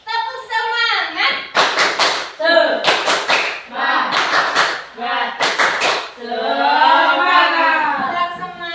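Elementary schoolchildren in a classroom chant together and break into bursts of rhythmic spirit clapping, with four sharp, tight volleys of claps set between their sung words.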